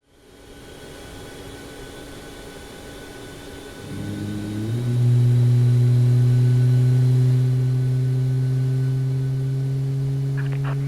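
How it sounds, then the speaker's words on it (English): Engine number 1 of a Boeing 737 Max spooling up in a simulated cockpit, starting as a low hum and rising into a loud, steady turbine whine with strong tonal drones that settle and hold near the end. "we'll now repeat the process starting engine number 1"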